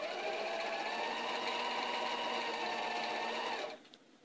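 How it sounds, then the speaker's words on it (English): Sewing machine running a quilt seam for an eight-pointed star, a fast, even motor hum and needle chatter heard close and alone for several seconds before it stops abruptly. "You want to go past where your pin is, past where the seam is, and you want to sew it."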